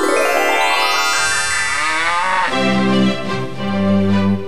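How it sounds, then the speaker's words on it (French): A cow moos loudly and at length, a drawn-out low call that rises and then sinks, close and alone with no talk over it. "La vache rumine, se lèche les babines."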